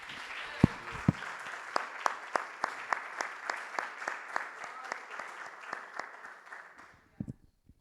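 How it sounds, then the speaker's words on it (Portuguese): A worship congregation claps in praise after a sermon, sharp distinct hand claps falling in a steady rhythm, fairly quiet and spacious, tapering off before a short voice at the end. "Você pode aplaudir o Senhor pela sua palavra"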